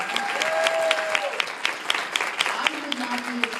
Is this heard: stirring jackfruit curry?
no